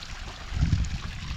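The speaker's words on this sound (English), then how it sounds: "Hear that? Hear that, folks? That's my own river." Rainwater running like a small river across a homestead during the first big rain, a steady low gurgling flow close by, continuous and fairly loud, with no voices.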